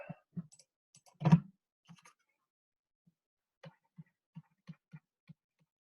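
Numbers are typed on a computer keyboard in a quiet room: a louder keystroke cluster near the start, then a sparse row of soft, evenly spaced clicks toward the end.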